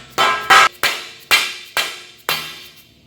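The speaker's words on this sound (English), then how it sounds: "Let me get the hammer." Six sharp metallic hammer strikes driving a steel bushing into a pipe ring out one after another, loud and close, each blow leaving a short ringing decay.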